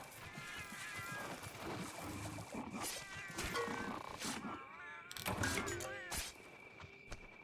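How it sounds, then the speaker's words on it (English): Cute Palico cat meows and chirps from Monster Hunter Generations Ultimate pop up several times amid busy game combat sounds and music, fairly quiet overall. "I love all the kitty noises."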